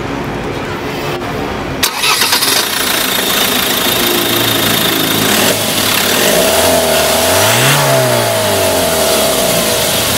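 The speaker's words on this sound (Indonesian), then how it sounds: "mereka pakai mesin yang mereka ambil dari Ford, yaitu DuraTorque Diesel 2200cc yang menghasilkan 153 horsepower dan 355 Nm of torque." A 2012 Land Rover Defender with a Ford DuraTorque 2.2-litre diesel cranks and starts close up, settling into a rattly idle before revving up and back down, loud and alone.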